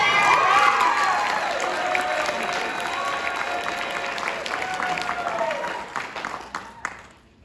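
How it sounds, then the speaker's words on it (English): A crowd claps and cheers loudly, with shouts and whoops rising over the applause before it thins out and fades. "Give it up for Tyler."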